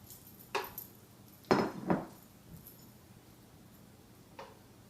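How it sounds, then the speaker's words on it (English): A kitchen knife chops radishes on a board, giving a few sharp, close knocks with a short quick cluster in the middle, spaced out over quiet room tone. "I'm going to start chopping away."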